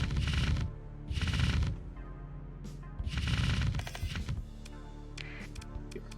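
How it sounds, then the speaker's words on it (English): Cannons fire in Starsector, a space strategy video game, as three loud bursts of rapid repeated shots, each about half a second long, separated by pauses with quieter clicks and a low hum. "Leading fire cannon."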